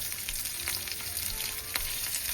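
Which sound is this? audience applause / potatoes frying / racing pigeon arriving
potatoes frying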